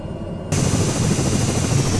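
An aircraft engine in Microsoft Flight Simulator idles with a dense, buzzing rumble that cuts in abruptly after a brief quieter moment and then stays loud and constant.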